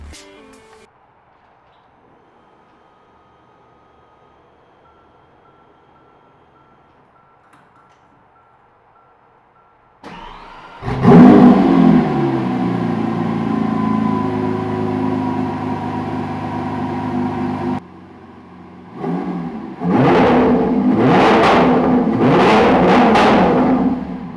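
After near silence, a Lamborghini Aventador Ultimae's 6.5-liter naturally aspirated V12 roars to life, runs loudly, then revs hard in several sharp, rising bursts.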